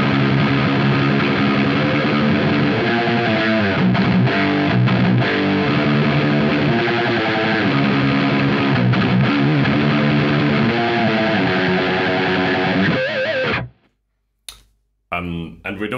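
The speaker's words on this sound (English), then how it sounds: "It's starting to sound almost a bit like a fuzz or maybe something like an HM2." Electric guitar through a BOSS Mega Distortion pedal, heavily distorted, thick and fuzzy, playing loud sustained riffs for most of the time before cutting out abruptly near the end.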